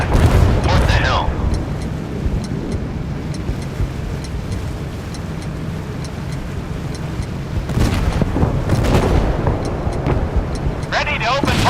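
Naval combat in the mobile game Force of Warships, with heavy warship guns booming amid a constant roar of engine and sea noise; a few sharper blasts and crackles rise over the dense rumble.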